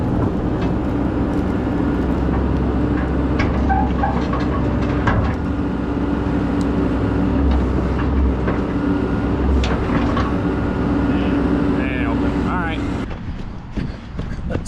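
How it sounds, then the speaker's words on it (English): An old truck, parked for decades, strains to pull a trailer off its fifth wheel, its loud, steady engine drone and rumble running throughout with clanks and rattles over it, easing off near the end. "I'm gonna see if it'll tug on this, see if we can pull the trailer off."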